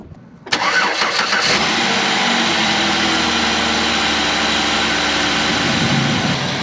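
A GM 3400 V6 car engine cranks for about a second, catches loudly, then settles into a steady, even idle up close.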